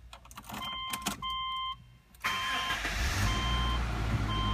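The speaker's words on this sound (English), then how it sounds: "I'll actually start the car up for you." A 2006 Subaru Outback Limited 2.5 starts up: a few door-chime beeps and clicks, then the starter catches and the engine settles into a steady, close idle.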